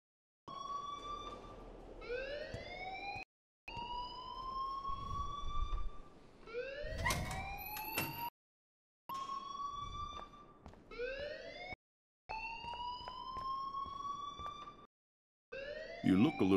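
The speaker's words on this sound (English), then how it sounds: "please turn off that alarm" A wailing alarm in the Life is Strange video game rises and falls in repeated siren-like sweeps, loud and close, with brief silent gaps between bursts.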